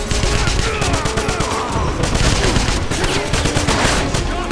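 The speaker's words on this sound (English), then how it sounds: "No, I want my machine gun, please." Loud, close machine gun fire in Wolfenstein hammers out in rapid, continuous bursts. Repeated sharp reports pile into a dense stream that lasts the whole stretch.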